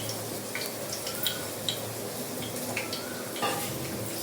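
Cinnamon and cloves sauté in oil in a pan with a soft, steady sizzle and a few light clinks and stirring scrapes nearby.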